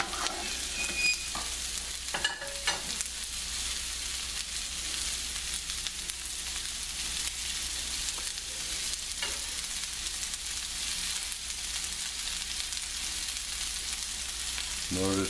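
Pork loin pieces fry gently over a moderate flame, giving a continuous, even sizzle with a few faint utensil clicks, close and steady throughout.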